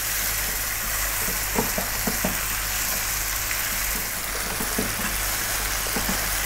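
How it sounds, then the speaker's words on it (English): Onions fry on high heat for a mutton curry, a steady close sizzle with occasional stirring knocks and scrapes in the pan, no talking. "And we're going to continue cooking on this vibrant heat for another 5 minutes. Let's get those onions cooked down a little bit."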